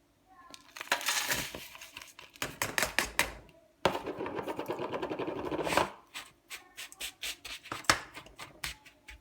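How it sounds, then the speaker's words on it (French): Crushed biscuits being stirred together with 80 grams of melted butter for a cheesecake base, giving dense bursts of crunchy scraping and rubbing with brief pauses between strokes, close and fairly loud. "J'ajoute 80 grammes de beurre fondu, tout simplement. Et je vais mélanger le tout."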